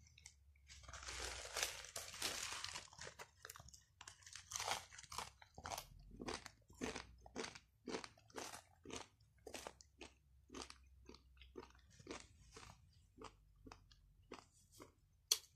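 Dry instant noodles eaten like chips, crunched in a long run of sharp, close bites and chews, with an initial crinkly rustle followed by steady rhythmic crunching and no speech.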